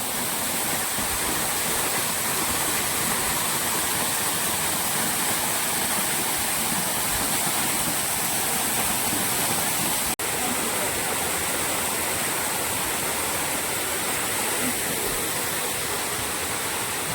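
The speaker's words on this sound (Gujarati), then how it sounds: "તો મિત્રો આ રીતનો અહીંયા વોટરફોલ છે, તમે જોઈ રહ્યા છો વિડીયોમાં। સરસ મજાનું પાણી આવે છે ઉપરથી," Gaumukh waterfall in the Dang district pours from above, a loud, constant, close roar of falling water holding steady throughout with no voices.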